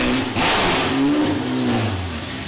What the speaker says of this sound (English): We just had a drive-by.